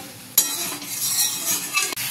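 Cauliflower stir-fried in a pan, a sizzling hiss mixed with scraping and stirring clinks of a utensil against the pan, close up and without talk.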